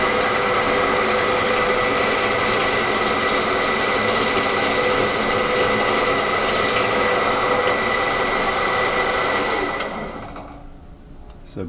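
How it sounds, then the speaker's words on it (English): A power drill bores a hole through the body of a DeWalt DCG412 cordless grinder with a loud, steady, high-pitched motor whine. The whine holds for about ten seconds, then winds down and stops. "we should be able to drill this very perpendicular"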